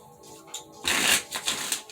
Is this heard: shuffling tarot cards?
yes